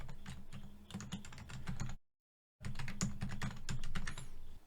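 Fast clatter of keystrokes on a computer keyboard, close and continuous, broken by a short silent gap before the typing resumes.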